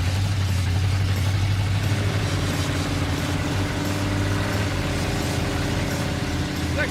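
A 1957 Chevrolet Bel Air engine runs steadily while the car drives in second gear, a continuous low rumble with a droning tone, fairly loud and close throughout.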